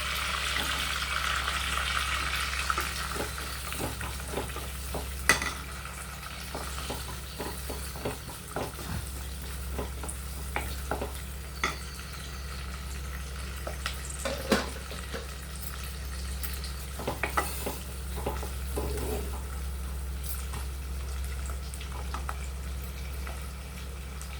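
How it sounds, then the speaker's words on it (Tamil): Cloves, star anise, two bay leaves and cardamom frying in oil for mutton biryani give a steady, close sizzle with a constant low hum and scattered small clicks and pops, and no voices. "பாருங்கள், இது பொரிஞ்சோன்னு வெங்காயம் போடலாம்"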